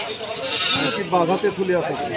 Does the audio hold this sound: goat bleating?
yes